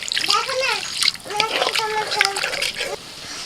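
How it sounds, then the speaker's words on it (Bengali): Water splashes into a pan of frying spice mixture while people talk over it, the liquid sound partly masked by their voices, close by. "মশলা ভালো করে কষিয়ে নিয়ে জল দিয়ে দিচ্ছি"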